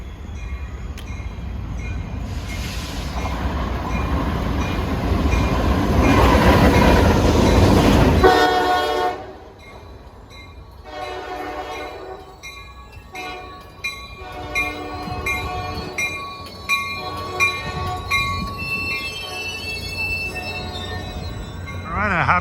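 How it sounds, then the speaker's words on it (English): A Caltrain commuter train rumbles past loudly near Burlingame with a blaring horn, then fades into rhythmic clattering wheels and faint squeals as it rolls by at a distance. "Oh, here comes my train in."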